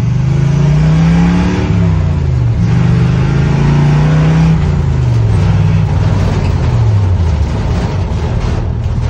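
A 1953 International truck engine revs hard and winds out through the gears, its pitch climbing, dropping at each shift and climbing again in a loud, steady, close roar with no talk.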